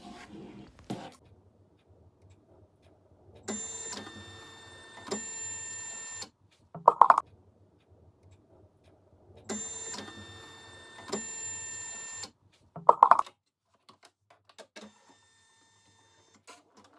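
An embroidery machine stitches a placement outline onto tearaway stabilizer in a hoop, running in two steady buzzing bursts of a few seconds each, with short mechanical clunks and quiet pauses between them.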